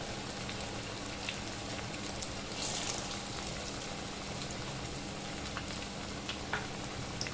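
Medu vada, urad dal fritters, fry in hot oil in a small pan with a steady, dense sizzle and crackle that stays fairly quiet and even throughout, with no voices.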